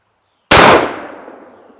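One loud, abrupt gunshot from a shoulder-fired gun bursts out of near silence and then decays into a ringing echo over about a second.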